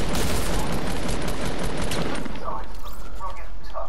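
Dense, continuous gunfire from a Fortnite match rattles through the whole stretch, rapid overlapping shots with a bright, sharp edge, while players talk over the firefight.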